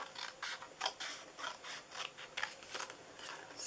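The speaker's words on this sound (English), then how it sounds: "I'm just going to cut it across here." Scissors snip through paper freehand while cutting a candy-cane shape for a chocolate-covered pretzel Christmas treat box, a quick run of crisp close cuts with no talking.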